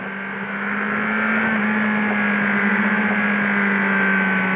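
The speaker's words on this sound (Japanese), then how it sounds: "空冷エンジンらしい、いかにも4気筒らしい排気音という感じで" A steady, loud exhaust from an air-cooled four-cylinder 2013 Yamaha XJR1300 motorcycle drones continuously with a low, even hum and a slight rise in pitch, close by with no talking.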